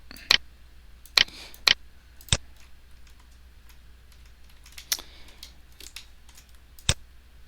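Sharp computer mouse clicks in a quiet room during engineering software work, a few isolated single clicks spaced irregularly over several seconds, close and crisp with no talking.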